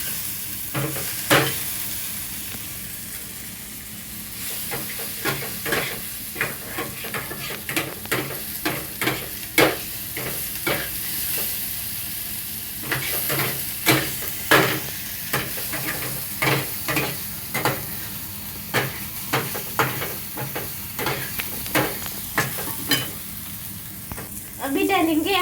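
Egg bhurji mixture sizzling and frying in a pan while being stirred, with repeated spatula scrapes and clicks over a steady, close sizzle throughout.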